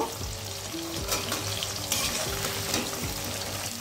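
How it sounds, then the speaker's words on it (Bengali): Cut potatoes frying in hot oil in a pan, a steady close sizzle with repeated clinks and scrapes of a spatula stirring throughout. "এবার আলুটা আমি এই তেলের মধ্যে ভালো করে একটু ভেজে নেব"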